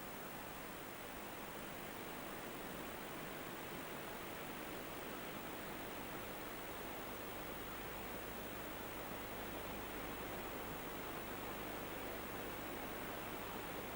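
Iguazu River plunging through a vast complex of 275 waterfalls: a steady, unbroken roar of rushing water, even and continuous throughout, heard from a distance and fairly faint.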